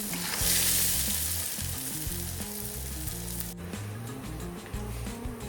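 Fish sizzles steadily as it fries in a pan alongside ginger, green chilli and coconut slivers, the hiss running constantly for several seconds with a brief dip where the piece is turned over, under background music and without speech.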